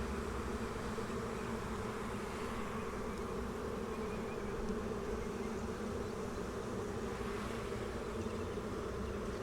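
A dense, steady hum of honeybees buzzing around an opened hive during a spring inspection, loud and close with no pauses.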